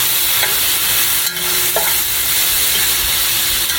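Onions and carrots fry in a pan for smoked turkey and broccoli lo mein, giving a loud, close, unbroken sizzle with a few soft knocks.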